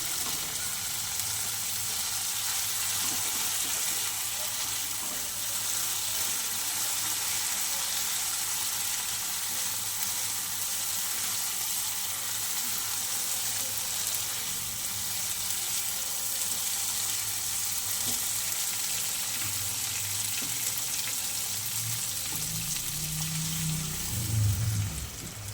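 Spice paste for a pangas fish curry sizzling steadily in a pan after water is added, a continuous hissing crackle that stays even and close throughout, with a brief deeper bubbling near the end.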